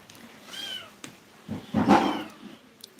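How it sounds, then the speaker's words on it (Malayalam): A kitten gives a couple of thin, rising meows, close and moderately loud, with one longer, stronger cry in the middle and quiet gaps between. "ഈ പൂച്ചക്കുട്ടിന്റെ കാര്യം പറഞ്ഞേ രസമുണ്ടല്ലോ"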